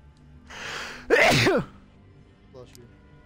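A single sharp sneeze with a breathy intake just before it, loud and close, then a faint short voice sound afterward.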